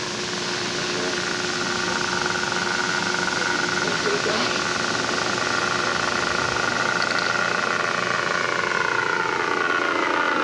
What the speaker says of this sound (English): Here we go on a slow flyby.